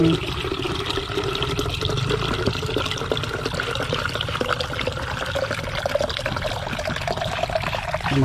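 Water running in a steady, unbroken flow, a dense rushing and trickling sound that stays close and even throughout with no pauses.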